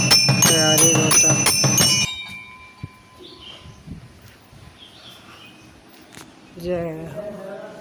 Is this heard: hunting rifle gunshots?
no